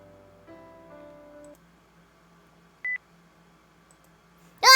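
Phone dialing an outgoing call: a run of short stepped keypad tones, then quiet, a single brief beep near the middle, and a louder burst of ringing tone at the very end.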